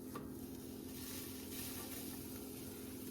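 Home-cured bacon made from pork butt fries over medium heat in a pan, giving a soft, steady crackling sizzle with a faint hum beneath it and no voices.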